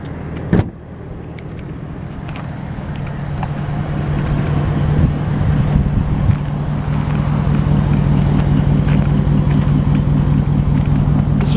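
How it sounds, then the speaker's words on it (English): Supercharged engine of a 2012 Jaguar XJ idles with a steady, low exhaust rumble that builds slightly in loudness, with a sharp knock near the start and no talking. "This one's got a nice set of pipes on it. Not too loud when you're driving, but it's got a nice rumble."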